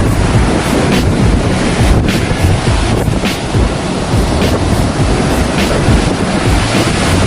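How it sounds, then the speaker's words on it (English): Ocean waves crash and surge onto a beach in a steady, loud roar with rhythmic swells, mixed with wind buffeting the microphone, no voices present. "These are not fake waves."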